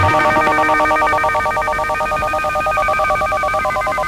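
A telephone sounding through a household scene: a steady tonal ringing pattern repeating evenly over a low background murmur, clear and prominent with no voices over it.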